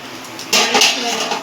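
Metal spoon scraping and clinking against a pan while vegetables are stirred over medium heat for a soybean and paneer dish, a burst of rattling scrapes after a quiet start, then continued lighter stirring.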